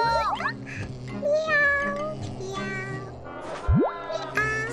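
A cartoon cat character meows repeatedly in bright, pitched calls over a busy animated-show background, with a quick rising whoosh near the end.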